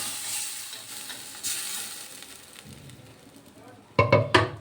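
Mango goes into a pan of hot mustard oil with fried mustard seeds, a steady sizzle with soft stirring, then a louder burst of frying and two sharp scraping clatters of the spatula near the end, close by.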